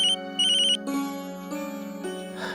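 A telephone rings with an electronic melodic tone, first in short repeated bursts, then as sustained musical notes, clear and fairly loud indoors with no one talking.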